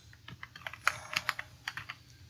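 Typing on a computer keyboard while entering an Excel formula, a quick uneven run of crisp close key clicks with short pauses and no voice.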